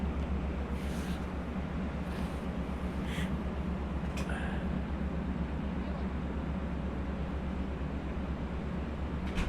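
A Long Island Rail Road train of eight Kawasaki C3 bilevel passenger cars at Speonk station gives a steady, close, low rumble with a few faint clicks and knocks over it.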